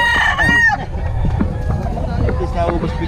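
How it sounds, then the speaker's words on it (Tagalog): A rooster crows loudly and close at the start, followed by more crowing and clucking from fowl over a noisy background in Bocaue. "manok."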